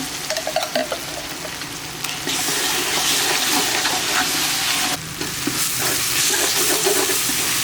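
Ground ginger, garlic, mint and coriander paste fries with onion and tomato in oil, giving a loud, steady sizzle with stirring scrapes and no voices.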